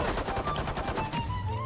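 Rapid automatic gunfire from a snowball gun in the tactical shooter game Valorant, a dense continuous rattle of shots filling the whole moment at moderate loudness with no voices.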